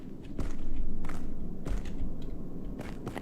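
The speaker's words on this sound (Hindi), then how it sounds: "मुझे किसी के चलने की आवाज आ रही थी भाई" Soft footsteps in a dark street in a horror video game, a few spaced steps over a low ambient rumble, fairly quiet, with no talk.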